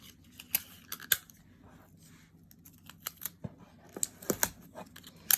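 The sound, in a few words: tape being applied to the side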